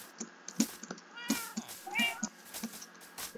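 A cat in Minecraft lets out a few short, close meows between sharp game clicks and thumps, with a brief voice or two mixed in.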